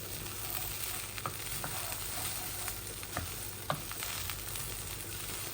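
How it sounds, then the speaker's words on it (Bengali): Rice frying in a pan for chicken biryani gives a steady close sizzle and crackle, with occasional sharper pops and scrapes rising over the constant hiss. "এই যে আমার চাউলগুলা ভাজা হয়ে গেছে"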